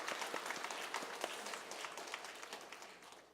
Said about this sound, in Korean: 여러분 우리 아이들에게 다시 한번 박수 한번 주시겠습니다